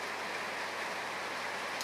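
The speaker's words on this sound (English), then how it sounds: "Can you hear that rain in the background?" Steady rain falls outside a garage on a dismal Chicago day, a constant soft hiss of drops on surfaces with no gaps or other sounds on top.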